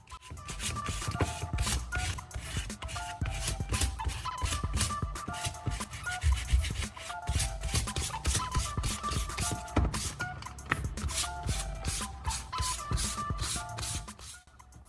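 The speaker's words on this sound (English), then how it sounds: "Take sandpaper and begin cleaning the bottom of the shoe and the inner side of the sole." Sandpaper scrubbing the rubber bottom and inner sole of a shoe, a dense run of quick scratchy strokes that goes on steadily, close and fairly loud with no voices.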